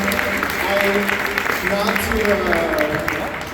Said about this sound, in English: Please, one more round of applause for her